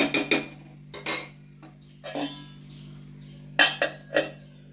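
A lid set on a pan of long beans with salt, a few sharp metallic clanks and clinks in short separated bursts, close and fairly loud against a quiet background, with no speech.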